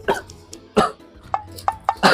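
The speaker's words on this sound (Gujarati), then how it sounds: "કાલ રાતનું આ ઉધરસ ને બહુ આવે છે" A man with a cold and fever coughs in a short series of sharp, close bursts, several separate hacks with brief pauses between them.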